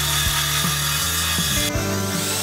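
Power saw cutting acoustic treatment panels down to size, a loud continuous buzzing drone with rhythmic shifts in pitch as the blade works through the material.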